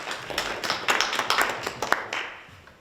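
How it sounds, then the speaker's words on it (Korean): A brief round of applause from a small group at a labor rights forum in Busan, scattered claps rising quickly and then tapering off. "박수로 모시겠습니다"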